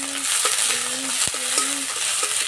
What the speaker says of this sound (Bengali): তেলে দেবো পেঁয়াজ কুচি